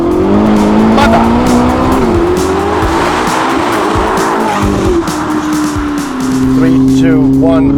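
A 1109hp Novitec Ferrari SF90 in matt white roars loudly as it drifts sideways, its exhaust note rising and falling over tire squeal, with excited talk over it.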